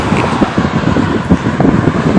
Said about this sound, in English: The wind is really starting to pick up.